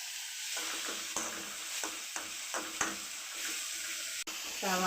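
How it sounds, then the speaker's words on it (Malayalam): Onion and green chilli sauté with salt in a pan for a taro-stem dish: a steady sizzle with repeated scraping stirs of a spatula, close and moderately loud, with a brief burst of water near the end. "കുറച്ച് ഉപ്പും കൂടി ചേർത്ത് നമുക്കതൊന്ന് ചെറുതായിട്ട് വഴറ്റി കൊടുക്കാം"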